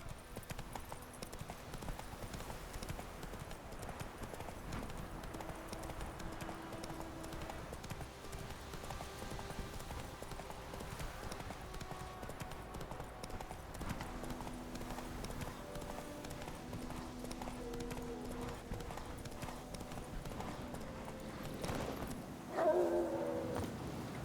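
Horse hooves clip-clop steadily at a riding pace in The Witcher 3, a continuous moderate rhythm under game ambience over about twenty-four seconds, with a brief louder bump near the end.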